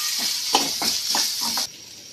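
A sweet mixture of raw rice, coconut and fruit fries in a pan with a steady loud sizzle, broken by several rhythmic scraping stirs before the sizzle cuts off.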